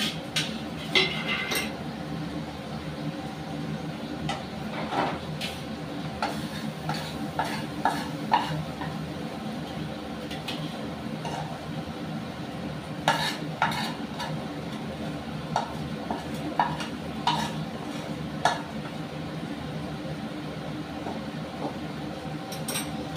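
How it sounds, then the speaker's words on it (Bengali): Fried neem leaves and eggplant being lifted from a pan onto a plate: a continuous low sizzle with scattered scraping strokes and sharp metallic clinks of a utensil against cookware. "ওটা আমি কি বলতো একটা প্লেটে নামিয়ে নিচ্ছি"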